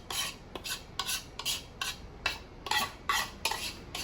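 Marinated chicken necks with butter are mixed in a bowl, giving rhythmic wet squelching and rubbing strokes, about eight short bursts, close and without talk.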